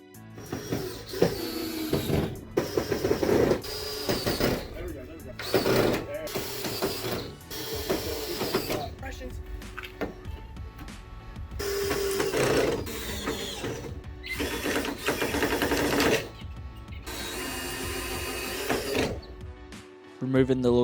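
A power driver runs screws into the legs of a cheap DIY backyard mower carport roof, with repeated short whirring bursts separated by pauses while people talk over and between them.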